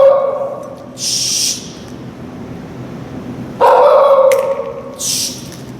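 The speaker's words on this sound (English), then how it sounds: "Sorry, I got a dog in my play area." A dog barks in a home play area, two separate bursts of loud, close barking with a quieter yip in between, set against a faint room hum and no speech.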